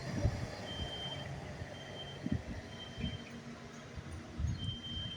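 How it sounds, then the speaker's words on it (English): Fire truck reversing beeper at night, a steady high-pitched repeating tone heard at a distance over a rumbling engine and low street noise. "Oh, look, 2 fire trucks."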